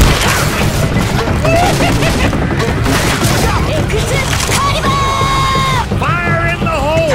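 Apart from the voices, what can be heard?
grenade explosions in video game Left 4 Dead 2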